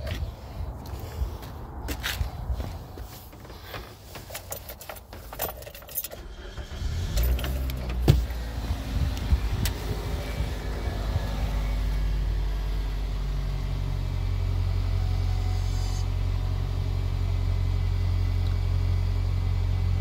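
Car engine with a VVT solenoid being tested, nearly cold: clicks and brief cranking give way to the engine catching, then a steady low idle hum that holds for the rest of the clip, close by.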